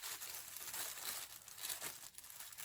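Tissue paper crinkles during the unboxing of boots, a soft, continuous rustling close by and fairly quiet.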